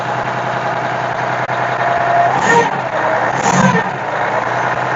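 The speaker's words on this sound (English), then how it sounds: "Exhaust leak." A truck engine with an exhaust leak runs steadily at idle, a constant rumble with a faint puffing tick, swelling slightly twice midway, close and alone without talk.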